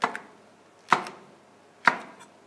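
Three sharp, evenly spaced knife strokes hit a cutting board as an onion is diced into cubes for tas kebabi, each a crisp close thud with a short ringing tail, no speech.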